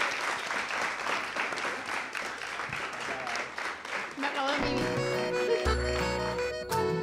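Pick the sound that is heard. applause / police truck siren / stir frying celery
applause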